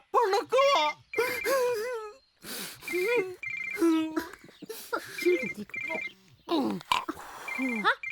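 A telephone rings in repeated short bursts during a scene in a Malayalam film, under loud, wailing, moaning speech from a person.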